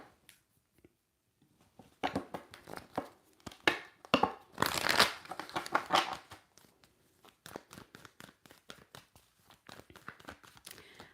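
Tarot cards shuffled by hand during a live yes/no reading: a run of crisp, papery riffles and taps, sparse at first, then building into a dense burst before tapering to scattered flicks, close and fairly quiet.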